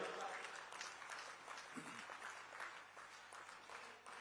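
A crowd at an outdoor religious gathering in a village applauds, with a soft, continuous patter of clapping heard faintly and at a distance, alongside some background voices.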